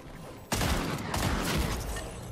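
Gunfire in the video game Fortnite, starting abruptly as a dense continuous volley that keeps going at steady loudness, with a second push of shots partway through and no talking.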